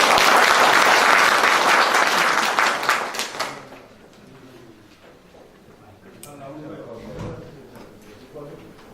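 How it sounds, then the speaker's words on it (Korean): Audience applause at a Korean community forum on district development, loud and dense for about three seconds before fading out, followed by quieter room noise and a speaker beginning to talk. "예, 박수 부탁드리겠습니다."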